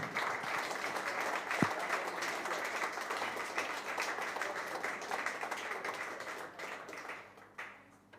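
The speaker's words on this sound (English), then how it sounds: "A round of applause for everybody involved." Steady applause from an audience at the final of a darts masters event, dense clapping carrying on for several seconds before thinning and fading toward the end.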